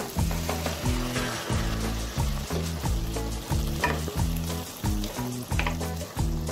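Coconut milk sizzles in a hot pan while being stirred for a raw papaya and tiny shrimp dish, a loud continuous frying hiss broken by steady, repeated scraping strokes.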